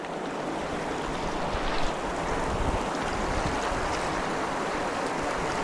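Water at a riverside or lakeside during spring fishing laps and washes steadily, a continuous broadband rush mixed with wind buffeting the microphone, with no voices heard.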